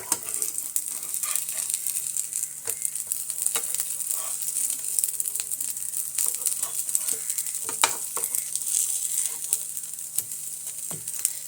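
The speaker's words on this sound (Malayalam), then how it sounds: "ചെറിയ രീതിയിൽ അപ്പുറവും ഇപ്പുറവും ഒന്ന് ചെറിയ രീതിയിലൊന്ന് മൂത്ത് കിട്ടിയാൽ മതി" Prawn and potato burger patties shallow-fry in a pan, giving a continuous fine crackling sizzle with scattered pops, close and even throughout with no talking.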